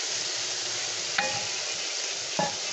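Louisiana crawfish tails sizzle in a hot pan while being stirred, with a constant frying hiss and two distinct scraping strokes of the spoon.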